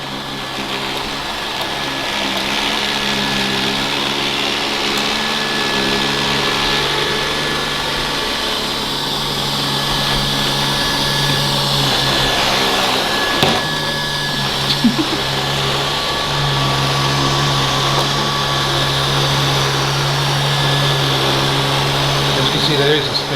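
A Neato D701 robot vacuum cleaning a floor, with a steady, loud motor whine and brush hum that runs unbroken throughout, with a few brief bumps near the middle.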